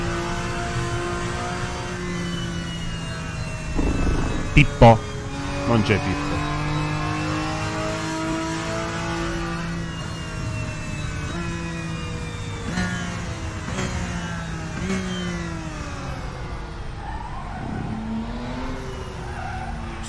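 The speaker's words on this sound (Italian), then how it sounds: "Con il rumore della macchina." Race car engine on a practice lap during training for a Sunday race, a steady sustained drone with shifting pitch, a couple of brief louder bursts, and a person talking over it.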